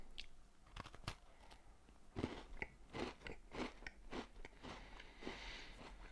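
Someone bites into a Maryland chocolate chip cookie, producing quiet, close crunches followed by a run of rhythmic chewing with no talking.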